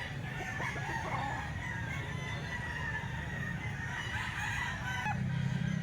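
A rooster on a farm crows loudly nearby, with clucking and other fowl sounds filling the background steadily throughout.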